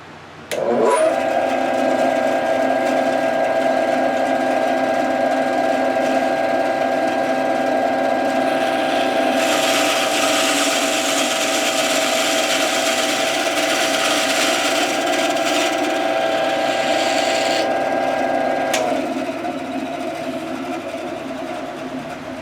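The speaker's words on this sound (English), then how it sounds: "we'll just make our first cut and we're going to stop just short of going through the blank" A power saw cutting into a wooden blank for a Celtic knot, starting with a sharp bite and then holding a loud, steady whine for about eighteen seconds before winding down.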